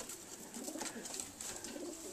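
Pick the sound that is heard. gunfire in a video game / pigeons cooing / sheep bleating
pigeons cooing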